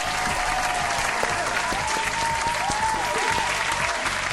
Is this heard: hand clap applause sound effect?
yes